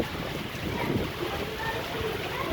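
Heavy rain pours down in a dense, constant hiss close by, mixed with gusty wind buffeting the microphone.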